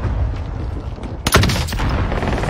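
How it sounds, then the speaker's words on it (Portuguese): Gunfire in an online video game shooter: one sharp, loud shot bursts out mid-clip, followed by a few fainter cracks, over a steady background of game noise. "Já pulsou no scope e me deu um tiro na headshot, né?"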